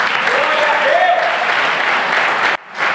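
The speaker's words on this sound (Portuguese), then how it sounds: "Aplauda o Senhor" Dense, steady applause from a church worship congregation fills the clip, loud and continuous, with a faint voice drifting over it before the clapping drops out suddenly near the end.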